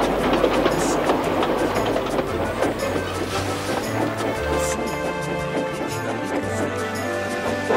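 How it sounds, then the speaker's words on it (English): A steam train arrives at a branch-line junction, a dense, steady rolling rumble with clanking rods and rhythmic wheel clatter that holds loud and close throughout. "As they arrived, a train came in from the back."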